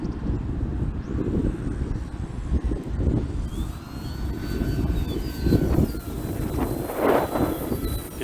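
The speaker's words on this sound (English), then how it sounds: "You can just hear that 3-blade prop just spin up." An E-flite T-28 1.2m RC plane with a three-blade propeller drones steadily overhead on its maiden flight, the engine pitch rising as the prop spins up, partly buried under heavy wind noise on the microphone.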